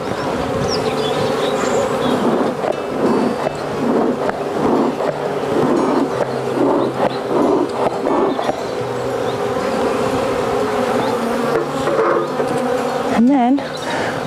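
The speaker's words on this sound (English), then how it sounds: "the other bees, hopefully, will find their way back into the hive and to the queen" Honey bees from a nuc buzzing steadily as they crawl into a new hive set on the floor near the entrance, a continuous close hum with some background noise and a brief voice near the end.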